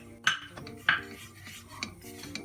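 A utensil scrapes and clinks against a metal pot, with a few sharper taps over a soft, steady stirring sound, as dry flour is toasted without oil.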